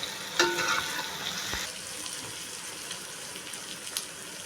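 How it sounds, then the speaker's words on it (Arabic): Boiling water poured onto stirred food in a pan while cooking a tagine of akawi (oxtail), a quiet sizzle and splash with a few clinks of utensils, faint and close, no talk. "ونقلب كله بقى وننزل عليها بالميه المغليه"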